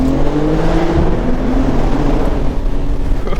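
Inside a tunnel in second gear, a BMW M3 Competition's S58 engine revs with the exhaust open. A brief rising howl gives way to a loud, rumbling roar that echoes off the walls. There is no speech.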